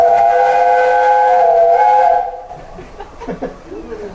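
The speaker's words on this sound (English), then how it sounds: "And somebody else having a go at the whistle." A steam locomotive whistle sounds loud and sustained for about two seconds, then stops abruptly, leaving rumbling background noise and faint clanks.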